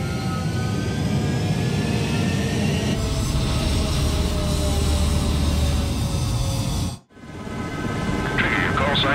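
A fighter jet in the video game Ace Combat 7 roars steadily down the runway on takeoff, a loud sustained engine rumble with radio voices talking over it before a brief dip in the noise.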